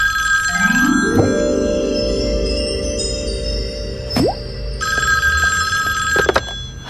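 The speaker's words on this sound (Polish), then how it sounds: "usłyszałem, że dzwoni telefon" An old-fashioned telephone bell rings loudly in two long bursts separated by a pause, close and clear, with a few soft plops and background tones in between.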